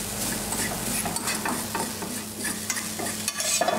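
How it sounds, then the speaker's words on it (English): Breadcrumbs toasting in a pan while being stirred, a steady close scraping and stirring with a soft sizzle underneath, continuous and fairly loud with no talking. "I'm just going to toast a couple of breadcrumbs"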